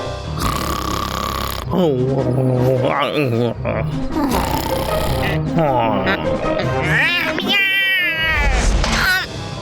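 Cartoon cat meowing in a Tamil-dubbed animated episode, a voice imitating repeated meows in rising, wavering cries, loud and close, with several meows in a row blending into excited cartoon character chatter.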